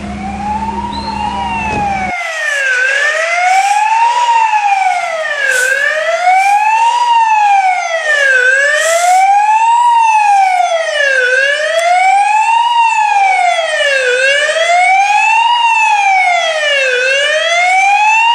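Fire engine siren at a fire in a ninth-floor flat in Gdańsk's Zaspa district, wailing in steady rising and falling sweeps, loud and close throughout after a brief low rumble at the start.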